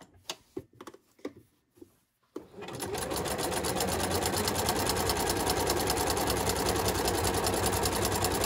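A sewing machine stitches a pattern lining, starting with a few short bursts and pauses, then running steadily and loudly for several seconds with a fast, even mechanical rhythm.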